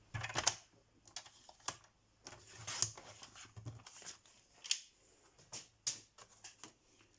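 A sheet of card is cut to size for a handmade card, giving a series of soft crisp snips and rustles in an uneven rhythm, close but quiet, with no talking.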